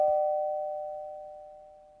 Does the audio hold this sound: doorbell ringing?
yes